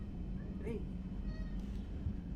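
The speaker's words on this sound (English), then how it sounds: "now we have to deal with all the meowing again" A cat meows once in a short, rising cry, fairly faint over a low background hum, during a Mass Effect 3 Legendary Edition game session, with a couple of softer chirps afterward.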